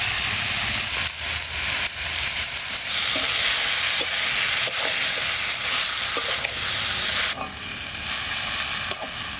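Taro leaves with green chilies and a little salt sizzle and fry steadily in a pan over low heat as the water cooks off, with stirring scrapes and clinks throughout.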